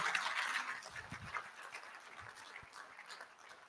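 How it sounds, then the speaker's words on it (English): Applause at a medical fellowship induction ceremony for a college of physicians and surgeons, a dense, steady patter of clapping from an audience, fairly soft and distant, with a few low thumps. "A round of applause for him."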